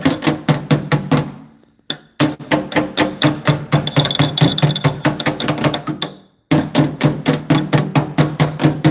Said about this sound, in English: we're still going to tap it with the hammer